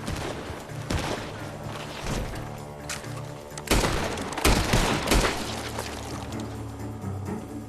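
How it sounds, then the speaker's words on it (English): Several loud gunshots from a barn in Red Dead Redemption 2 crack out amid a steady background of game ambience, with a few heavier blasts clustered near the middle. "The gunshots are coming from that barn!"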